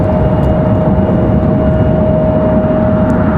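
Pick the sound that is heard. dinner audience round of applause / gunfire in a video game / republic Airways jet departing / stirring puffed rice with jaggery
republic Airways jet departing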